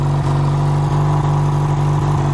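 A 440 motorcycle idling on its exhaust while warming up, a loud, steady low rumble close by with an even, throbbing pulse and no talk.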